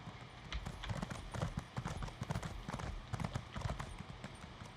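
Horse hooves clip-clop steadily in the Elder Scrolls Online video game, a quick rhythmic trotting pattern that stays close and continuous for the whole stretch with no talking over it.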